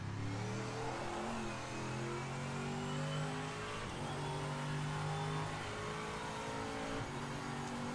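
Race car engine in the Project Motor Racing game revving and accelerating, a continuous loud mid-pitched roar climbing through the gears with harmonic whine rising and falling over eight seconds, no talk.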